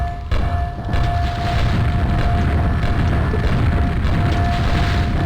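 A rocket launcher bursts apart in a Call of Duty game after being fired too much, a sharp loud boom followed by a sustained rumbling roar with a steady high whine running through it.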